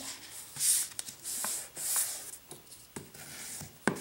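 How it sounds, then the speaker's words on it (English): A glue stick rubs firmly along a folded paper flap on a handmade blank journal, giving soft repeated swishing strokes with a few sharp taps, close and quiet. "I'm going to use my glue stick as my creaser. And then folding in this flap."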